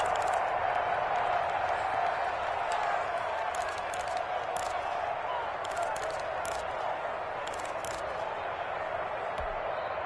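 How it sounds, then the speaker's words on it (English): A stadium crowd in a PS4 American football game roars in a broad, sustained wash of cheering that holds steady and slightly fades, with a commentator's voice talking over it. "as this crowd rises to make things difficult"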